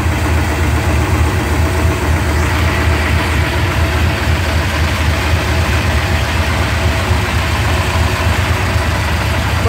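An engine idles steadily and loudly, a constant low rumbling throb that holds the same pitch throughout with no voices, a 440 Six Pack quench-head engine running unloaded on a test stand.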